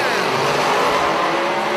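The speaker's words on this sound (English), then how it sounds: "Here comes the nitrous car" A nitrous-fed drag race car launches and roars down the track, a loud, sustained engine blast with a rising whine that fills the whole moment.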